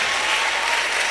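Steady audience applause at a national public speaking competition, a dense wash of clapping hands filling the whole moment with no voices.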